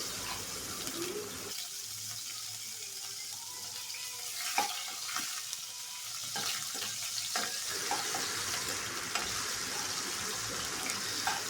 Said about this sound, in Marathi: या चांगल्या मस्त आपण तेलामध्ये फ्राय करून घ्यायचे आहेत